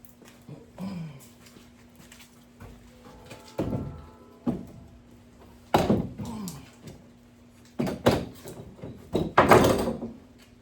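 Clunks, thuds and scraping as a car door is moved and handled, with scattered bangs and rattles separated by short quiet gaps.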